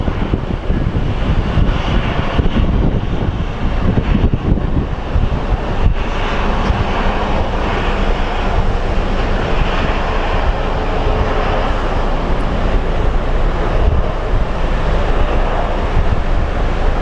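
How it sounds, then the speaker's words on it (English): Strong wind buffets the microphone at Sky Harbor International Airport, a steady, loud, broadband roar with gusty rumble that persists for the whole stretch, with no talking. "this wind is actually throwing me off balance"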